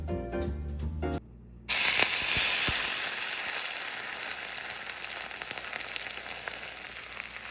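Ginger, garlic and scallions dropped into hot ghee, a sudden loud burst of sizzling that starts after a short musical passage and a pause, then a sustained hissing fry that eases slightly over several seconds.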